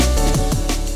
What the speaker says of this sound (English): we do have a crash underneath that just to give the drop a little bit more impact